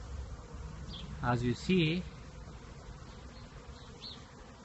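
Many bees hum in a steady, dense drone around Poly Hive beehive units at a busy site, with someone speaking briefly over the buzzing.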